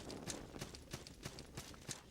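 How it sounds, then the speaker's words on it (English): Horse hooves clip-clopping at a steady, even rhythm in the video game Salt and Sanctuary, moderately faint with regular sharp hoof strikes across a short stretch and no talk. "Well, that's a horse."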